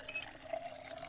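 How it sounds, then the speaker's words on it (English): Water running into a bottle in the Project Zomboid survival game, a brief steady liquid rush with a faint trickle, alone and fairly quiet. "Let's fill up our water bottle first."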